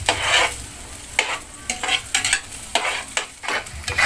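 Garlic sizzles in hot oil in a pan, broken by repeated sharp scrapes and clanks of stirring, close and clear with no talk.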